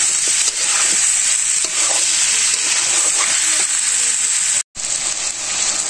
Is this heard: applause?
no